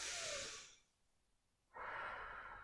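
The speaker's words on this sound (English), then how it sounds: "Take some deep breaths while you're doing this." Deep, close breathing from someone lying on the floor in a kids' yoga class: a long airy exhale, a short silence, then another strong breath.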